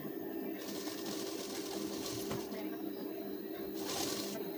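A sewing machine stitches a blouse with a steady, close mechanical whir and rapid needle chatter, running continuously and swelling in bursts.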